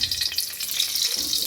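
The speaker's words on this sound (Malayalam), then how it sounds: "കടുക് വറുക്കണം" Mustard seeds crackle and sizzle in a little hot oil in a home kitchen pan, a steady, close, bright hiss with fine popping that runs throughout.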